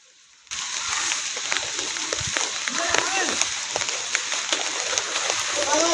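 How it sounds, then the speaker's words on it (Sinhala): Rain pours steadily onto the off-season trail up Sri Pada (Adam's Peak) from Hatton via Nallathanni, Sri Lanka, starting abruptly as a dense, hissing wash of drops and splashes that holds for several seconds. "අපි යනකොටත් වැස්ස ටික ටික වැඩි වෙන්න ගත්තා."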